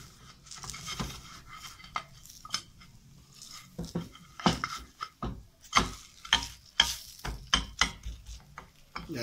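A lentil meat patty fries in a pan with olive oil, with soft sizzling under a series of close, sharp scraping and tapping sounds from a utensil against the pan.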